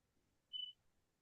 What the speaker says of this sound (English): That is the alarm system that I can't figure out how to disconnect.